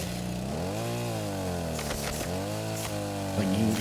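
A chainsaw roars in the video game Rust, its engine pitch dipping and climbing in slow revving waves, loud and sustained, with a few sharp clanks over it.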